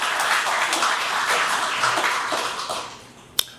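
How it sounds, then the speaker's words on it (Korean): Applause from a congregation during a church worship service, a steady patter of clapping that gradually fades away, ending with a single sharp tap. "큰 감사와 영광의 박수를 올려주시면 좋겠습니다"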